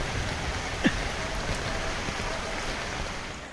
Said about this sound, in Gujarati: સવારથી જ ધોધમાર વરસાદ વરસતા આખું ગામ બેટમાં ફેરવાયું છે